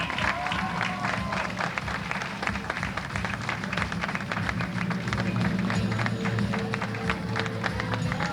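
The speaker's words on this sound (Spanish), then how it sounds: "Un aplauso, así como que de suavecito para fuerte." A crowd applauds at a Jutiapa queen coronation, a thick continuous patter of many hands carrying steadily through, growing a little fuller toward the end.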